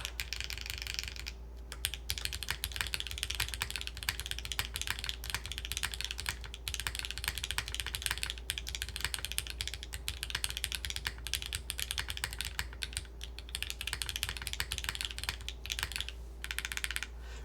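Continuous clattering keystrokes on an Origami TKL mechanical keyboard, fast and steady, close up but fairly quiet, with occasional heavier clacks over a faint electrical hum.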